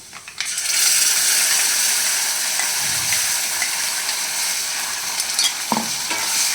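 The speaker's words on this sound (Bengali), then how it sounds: "ভালো করে নেড়ে চেড়ে কষিয়ে নেব মশলাটা।" Spice paste and onions fry in a pan under steady stirring, giving a continuous close sizzle with scraping and clicking utensil strokes and no talk.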